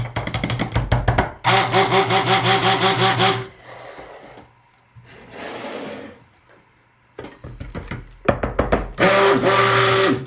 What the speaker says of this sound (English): Got a jug here with some hot soapy water to quickly clean the stick blender head.